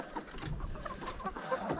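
Chickens on a snowy Arkansas homestead cluck in short, soft bursts, a few birds close by and quiet, with no talk over them.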